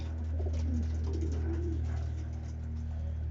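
Soft, low pigeon cooing from a racing-pigeon loft plays steadily against a constant hum, with no voices.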